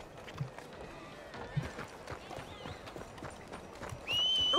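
A horse gallops in the Red Dead Redemption video game, its quick clip-clop hoofbeats faint and rhythmic beneath low game ambience, ending with a brighter sustained tone.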